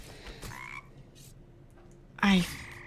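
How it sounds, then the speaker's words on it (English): Frogs croak in the fantasy online game Embers Adrift: a loud, close, rasping croak bursts out near the end after quieter ambient game sounds, with no talking. "So many frogs."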